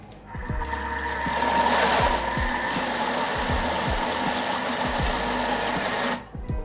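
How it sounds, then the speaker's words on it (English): A blender whirring through herbs, pine nuts, parmesan and olive oil, a loud close motor drone with rhythmic knocking pulses as the blades churn, cutting off abruptly near the end. "they go into a blender along with pine nuts, parmesan, and your olive oil."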